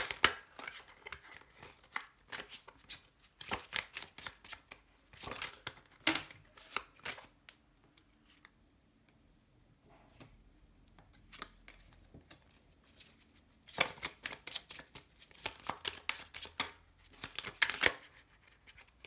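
Tarot cards shuffled and drawn during a sentimental reading, giving crisp riffling bursts and flicking card snaps in clusters, with quieter pauses in between, close and moderately loud.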